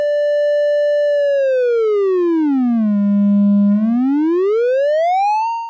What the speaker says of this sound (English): Now let's look at a triangle wave. It has some edges and we can hear its sound being a little harsher than the sine